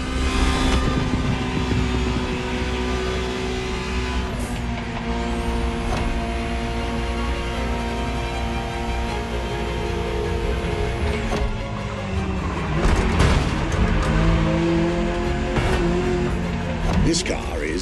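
Ferrari 288 GTO in The Crew Motorfest, a steady loud engine drone with shifting tones and a rising whine, swelling again near the end as the car accelerates, with no voices.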